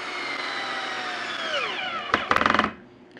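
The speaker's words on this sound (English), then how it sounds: "I'm going to drill it" A cordless drill in drill mode with no clutch drives a screw into wood, whirring steadily with a falling pitch, then stops, followed by a short burst of rapid ratcheting clicks as the bit slips.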